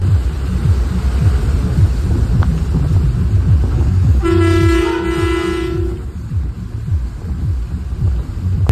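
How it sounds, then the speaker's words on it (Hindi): A Nepali truck's pressure horn gives one sustained, loud, steady blast of about a second and a half over a constant vehicle and road rumble. "ये नेपाल के कुछ ऐसे प्रेशर हॉर्न है कि दूर से ही संकेत मिल जाता है कि एक बड़ी गाड़ी आ रही है"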